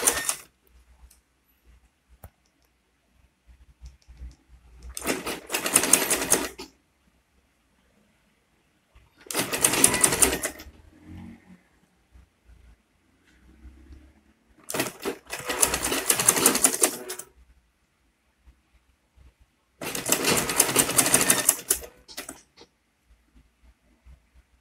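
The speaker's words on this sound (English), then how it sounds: "And make sure you are sewing very close to your brim." A sewing machine stitches close along the brim of an Ankara fabric flat cap, running in four separate whirring bursts of about two seconds each, with quiet pauses between them.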